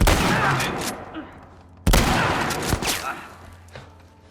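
Two loud shotgun blasts in The Last of Us Part I, the first at the start and the second about two seconds later, each a sharp crack followed by a fading rumble, with faint game sounds in between.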